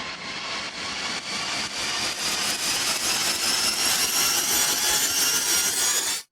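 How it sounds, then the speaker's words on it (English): Trailer riser sound effect from the Elements Kepler library, a dense, loud swell of noisy texture that keeps climbing in pitch for about six seconds before cutting off abruptly. "Okay, this is a riser."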